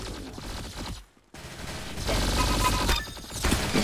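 Rifle gunfire in the Roblox Arsenal shooter game, rapid bursts of shots with a brief gap before a denser, louder volley.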